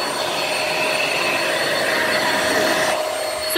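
A Bosch toy electric vacuum cleaner running with a steady, whining motor hum and a faint high whistle, close by and continuous.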